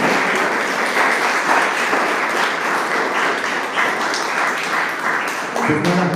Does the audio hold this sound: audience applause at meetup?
yes